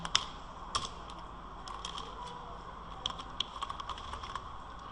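Someone types a password on a computer keyboard, a run of quick, close plastic key clicks with a few louder strokes and short pauses over a faint steady hum.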